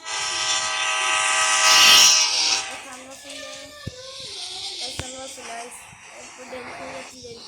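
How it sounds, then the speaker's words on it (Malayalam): Train in a video game rumbling along with a loud sustained horn blast that fades to a steady run, a few sharp clanks, and a voice talking over it. "ഞാനിന്ന് ട്രെയിൻ ഓടിക്കണേ"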